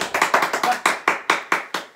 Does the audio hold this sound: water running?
no